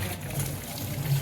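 Water poured to fill a dug pit on an open plot, a short, steady splashing gush heard up close without talk.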